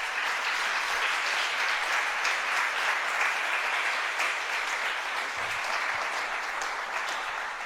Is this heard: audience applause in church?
yes